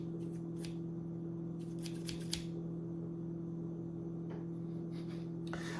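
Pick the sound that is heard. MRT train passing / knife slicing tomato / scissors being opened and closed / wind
scissors being opened and closed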